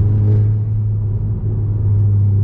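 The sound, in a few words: car engine resonating in cabin on deceleration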